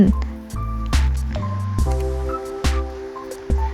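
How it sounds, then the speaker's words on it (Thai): Marinated beef goes down onto a grill over low heat, making a few soft, wet slaps and squishes about a second apart, close up over a steady low background hum. "ก็จะเอาไปย่างในไฟอ่อน ลงย่างแบบนี้เลยค่ะ"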